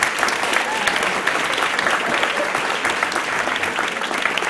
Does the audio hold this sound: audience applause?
yes